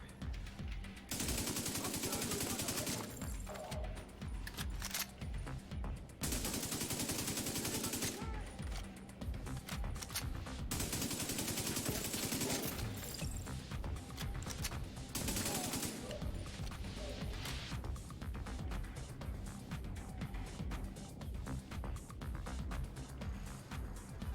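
Gunfire in the video game The Division 2, loud sustained bursts of automatic fire in several long volleys separated by short pauses, with a voice speaking faintly beneath it.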